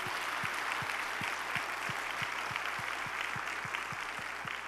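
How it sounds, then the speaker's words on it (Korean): Congregation clapping in a church service, a steady rhythmic applause in unison with regular beats, moderately distant and filling the room, with no clear talking over it. "박수로 영광을 돌리시오"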